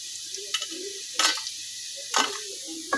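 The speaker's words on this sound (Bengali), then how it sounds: "এখন আমরা আলু ভেজে নিচ্ছি" Potatoes sizzle while frying in a pan for noodles in a village kitchen, with a soft steady crackle broken by several sharp stirring scrapes and clatters, close up.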